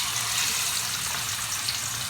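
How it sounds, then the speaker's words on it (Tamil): Fish frying in hot oil, a steady close sizzle and crackle with no voices over it. "அதுக்குள்ள இப்போ மீனை போட போகிறோம் பொரிக்கிறதுக்கு"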